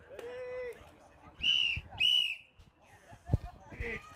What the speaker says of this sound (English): Take your grip and go on the referee's whistle.